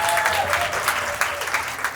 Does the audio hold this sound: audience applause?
yes